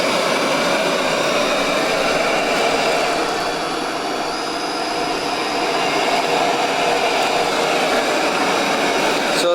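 A Roborock S7 MaxV Ultra robot vacuum cleans at home, moving back and forth between carpet and hard floor, its motor giving a steady, loud, close whir that barely changes.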